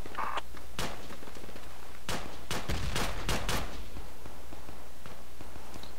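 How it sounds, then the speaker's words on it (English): AK rifle fire in Project Reality: a rapid cluster of sharp, fairly close shots in a loose burst, with a few scattered single cracks before and after against steady low background noise. "Guys, we got AK fire up here."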